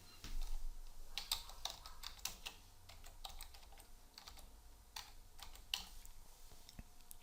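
Keys clatter in quick irregular bursts on a computer keyboard, close and fairly quiet over a low background hum, with brief pauses between runs of typing.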